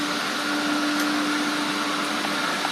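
A small PC fan blowing air through a Vauxhall Corsa heater matrix used as an under-bed heater in a motorhome, a steady airy whoosh with a faint constant hum, close and unbroken.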